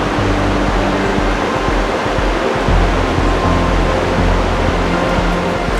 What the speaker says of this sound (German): Das ist mal ein Anblick auf den Wasserfall.